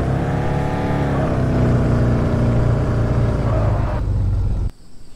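A car engine in the Car For Sale Simulator video game drones loudly and roughly, holding a harsh steady rumble for several seconds before it abruptly cuts off.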